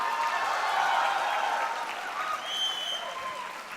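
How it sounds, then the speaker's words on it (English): Conference audience applauding at a gathering for chartered accountancy students, sustained crowd clapping that gradually tapers, with faint voices mixed in. "A huge round of applause, ladies and gentlemen."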